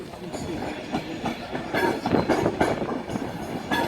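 A Virgin Trains Class 390 Pendolino at Carlisle station on the West Coast Main Line rolls past with rhythmic wheel clatter over rail joints and rising, fluctuating rumble, fairly loud and close.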